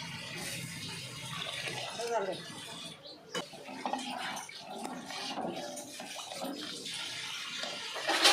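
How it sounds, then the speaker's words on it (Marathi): Heated water pours and splashes into a metal pot of mutton curry in an uneven stream, with clinks of cookware and a person talking nearby. "त्याच्यामध्ये पाणी ॲड करूयात, गरम केलेलं पाणी हे।"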